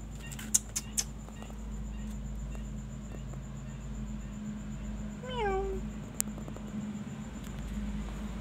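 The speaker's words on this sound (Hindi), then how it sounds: "ये चाइनीज़ बिल्ली हमारे पास आया है।" A cat at home gives a single short, descending meow midway through, moderately close, over steady low room hum with a few faint clicks and no talking.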